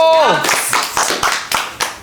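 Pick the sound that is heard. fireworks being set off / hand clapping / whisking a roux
hand clapping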